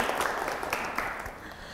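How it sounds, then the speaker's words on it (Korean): A student audience claps to thank the older-student speakers, a soft, distant wash of applause that thins out toward the end with no voices over it. "학생 여러분 오늘 좋은 말씀 해주신 선배님들에게 감사의 박수 부탁드릴게요"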